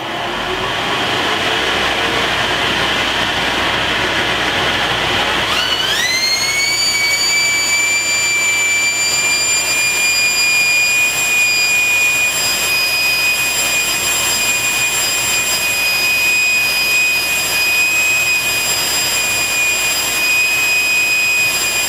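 A shop dust collector spins up from quiet to a loud, steady rushing whine with a rising tone during an airflow test, then holds a constant high-pitched roar without any talk.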